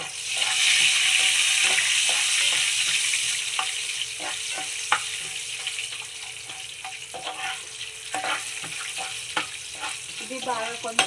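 Mustard seeds, cumin and garlic frying in hot oil make a loud hiss that gradually fades into a softer sizzle, broken by occasional sharp pops and utensil clicks near the end.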